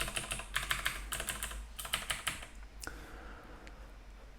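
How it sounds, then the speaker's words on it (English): Computer keyboard keys pressed for Excel shortcuts such as Control plus Space, a rapid run of close clicking taps that thins out to a few isolated presses. "using the control space keys to select the entire columns"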